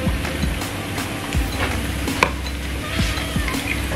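Akara bean fritters frying in very hot oil on a cooker set to its highest setting, a steady close sizzle and crackle with occasional light utensil knocks and stirring sounds.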